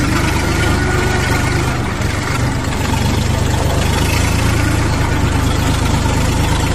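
Orion 24 hp mini tractor engine running steadily while the tractor reverses, a loud continuous low rumble with no pauses throughout.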